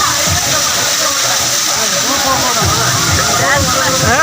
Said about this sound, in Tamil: அங்க பாருங்க, தண்ணி வருது.